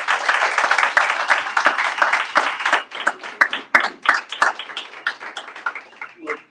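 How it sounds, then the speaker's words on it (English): Audience at a book launch breaking into applause, a burst of many hands clapping close by that thins and fades over several seconds. "Round of applause, please."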